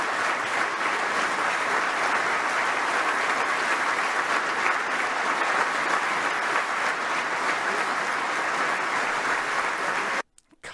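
An audience applauds in a sustained, dense wash of clapping for about ten seconds, loud and even throughout, then stops abruptly.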